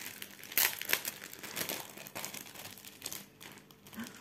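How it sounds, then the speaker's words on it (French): Crinkling plastic packet being opened around cross-stitch fabric, with close, bright rustles and a couple of sharper crackles in irregular bursts, no talking. "Alors, j'ouvre le sachet."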